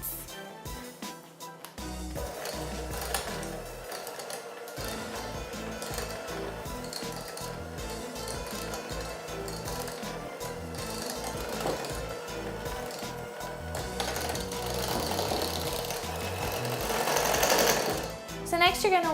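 An electric mixer creaming room-temperature salted butter, a steady motorized whirring with rhythmic thumping and rattling against the bowl, close and continuous, rising slightly in intensity toward the end.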